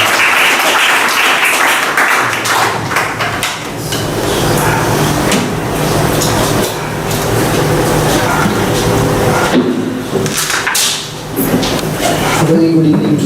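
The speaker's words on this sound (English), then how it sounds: "Let's welcome him to the big round of applause." Loud, sustained applause from a church congregation at an evening Lenten gathering in Sharjah, with dense clapping filling the whole stretch and brief dips in intensity.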